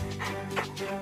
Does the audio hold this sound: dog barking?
yes